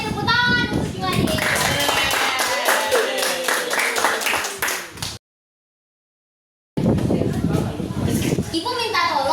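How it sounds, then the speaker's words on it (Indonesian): A school class applauds in a dense burst of clapping with children's voices mixed in, then a brief silent gap before clapping and chatter resume. "tepuk tangan untuk Juwadi."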